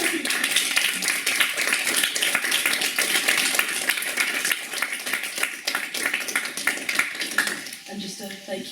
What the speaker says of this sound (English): I would like to give you a clap again, please, because that was wonderful.